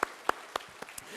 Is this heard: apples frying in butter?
no